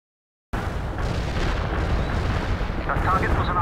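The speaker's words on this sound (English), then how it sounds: "Heavy artillery firing for effect." Heavy artillery barrage in the strategy game World in Conflict, a sudden dense roar of booming blasts starting after a half-second of silence and rumbling loudly without pause.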